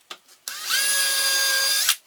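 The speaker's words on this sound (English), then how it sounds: "Here I drill a shallow hole" A power drill bores a shallow hole into a tropical wood tabletop, a short whining burst of about a second and a half after a couple of quick clicks, close and loud.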